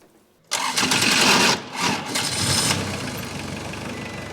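A skid steer engine cranks and catches after a brief quiet moment, roars loudly for about a second, dips, then settles into a steady, rough close-up idle.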